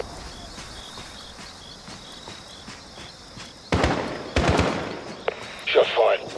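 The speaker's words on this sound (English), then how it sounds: "Shots fired." Gunfire from the video game Call of Duty: Modern Warfare (2019) in a dark night setting: a few loud, sharp bursts of shots following a quiet stretch with insect-like chirping in the background.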